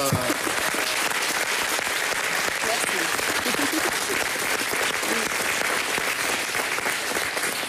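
An audience on a French Halloween evening show applauds a guest named Isabelle, with loud, dense clapping sustained evenly from start to finish and a few voices faintly audible beneath it.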